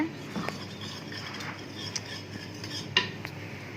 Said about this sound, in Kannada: ಮತ್ತೊಂದು ಸೈಡಲ್ಲಿ ಕಸ್ಟರ್ಡ್ ಹಾಲಲ್ಲಿ ಹಾಕಿ ಮಿಕ್ಸ್ ಮಾಡ್ಕೊಳ್ತೀನಿ